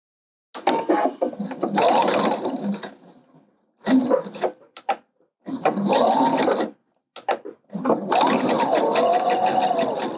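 Sewing machine running a seam on a dress made from a blouse pattern, loud and close, in several bursts of a few seconds each separated by short quiet gaps.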